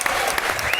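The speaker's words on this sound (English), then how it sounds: "I want to give Evelyn and her team a rousing round of applause for an incredible," Short snatch of enthusiastic clapping from a live podcast audience honoring a team, with a few sharp individual claps standing out in a dense, close wash of applause.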